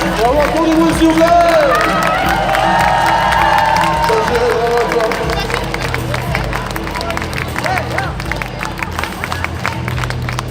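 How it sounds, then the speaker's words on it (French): A convention concert audience at Made In Asia 2019 cheers and claps loudly, with whoops and crowd babble running throughout while a voice talks over the noise. "Bravo, applaudissez-vous s'il vous plaît."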